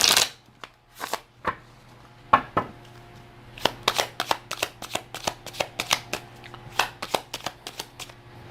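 Oracle cards from a divine timing deck shuffled by hand in a quiet room, giving a run of brisk, close riffling bursts, sparse at first and then a rapid, regular flurry, with no talk.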